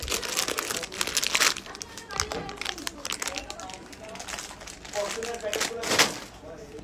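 A foil packet crinkles and crackles as it is handled, giving a close, uneven run of crisp rustling while people talk over it.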